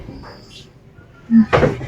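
A soft creak followed by a short thud as a door swings shut against the wind, with a brief voice just before it.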